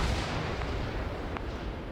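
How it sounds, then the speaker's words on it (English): Grenades explode in the Arma 3 video game as a continuous loud, rumbling roar of blasts that fills the whole stretch, with faint sharper pops breaking through near the end. "So I'm throwing grenades in there."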